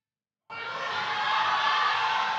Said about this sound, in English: The crowd is stoked on James.